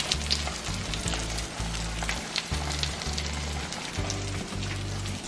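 Vegan sausage patties for a gluten-free breakfast sandwich frying in a pan, giving a steady, close crackling sizzle with no speech, over a faint low hum.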